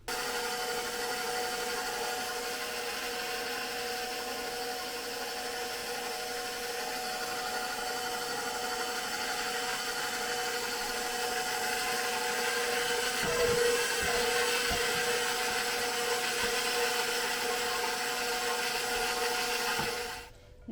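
A KitchenAid stand mixer mixes cornbread ingredients with a continuous loud motor whir at a constant pitch for about twenty seconds, then stops abruptly at the end.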